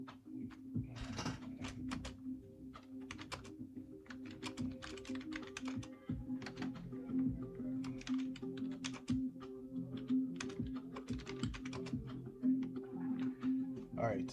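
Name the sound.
typing on a computer keyboard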